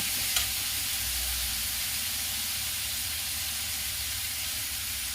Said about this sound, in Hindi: दोस्तों, अदरक लहसुन का पेस्ट अच्छी तरह भुना चुका है। इसमें मैं अब टमाटर डालूंगी। इसे मिला लेती हूँ।